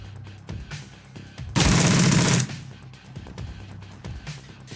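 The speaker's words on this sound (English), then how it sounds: "I love this guy's aim shot crits with the pistol" A loud burst of pistol fire from a character in the game Shadowrun Returns, under a second long, standing out sharply over quieter background game sounds.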